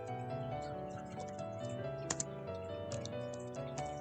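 Computer keyboard keys tapped in quick irregular bursts while a terminal command is entered, soft close clicks over a faint background music bed.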